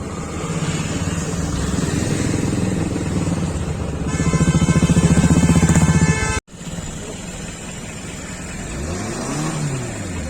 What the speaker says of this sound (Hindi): ये देखो भाई कितनी खड़ी चढ़ाई है, गाड़ियां ऊपर चढ़ नहीं रही हैं।